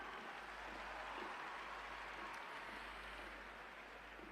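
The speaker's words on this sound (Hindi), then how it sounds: "जोरदार तालियां हो जाए." A large stadium crowd at a performance event applauds continuously, a broad, even roar of many hands clapping from a distance that holds steady throughout.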